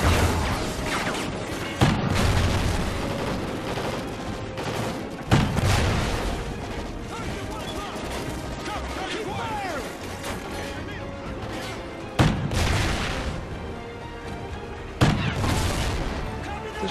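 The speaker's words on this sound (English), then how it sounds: "The grenade launcher is actually working very nicely if I don't have to try to arc it myself." A grenade launcher fires in the Call of Duty: Ghosts video game, with several heavy booming explosions spaced a few seconds apart over continuous battle noise and rattling gunfire, loud and close.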